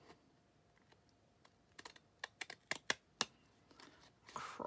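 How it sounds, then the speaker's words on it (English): Several crisp scissor snips cut through paper at an angle with decorative edging scissors, a quick irregular run of close, sharp clicks and rustles that builds toward the end over a quiet background. "I'm just going to cut on an angle"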